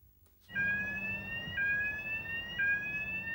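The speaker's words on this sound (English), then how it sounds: "This annoying audible alarm was blamed on teething trouble." The audible reversing alarm of a new London Routemaster bus, a steady electronic tone that steps in pitch at intervals, cutting in suddenly and continuing loud and close with no one speaking.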